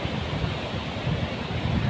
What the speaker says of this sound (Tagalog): itong alon na yan, normal na po yan dito.